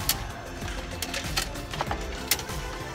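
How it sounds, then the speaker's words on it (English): Close mechanical whirring and clicking from a DVD VCR combo player's mechanism, with steady grinding and sharp ticks scattered throughout, no voices. "a DVD VCR combo, and when it makes a sound like this"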